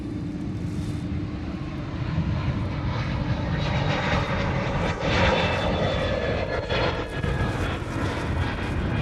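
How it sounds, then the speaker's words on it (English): A fixed-wing airplane on its takeoff roll down runway 8 left at Honolulu at night, its engines a loud, steady, broadband roar that stays continuous and close throughout with no voices. "keep it rolling, runway 8 left, full length, perfect takeoff"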